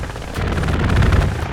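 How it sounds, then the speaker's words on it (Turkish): Aircraft strafing run in Hell Let Loose: a rough, continuous burst of gunfire with heavy low rumble, swelling louder partway through and sustained to the end, with no voices over it. "Uçak taradı ve gidiyor"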